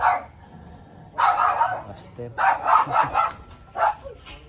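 A dog barks at a cousin's house in the Philippines, several loud close barks in short bursts separated by pauses, with a person talking over and between them.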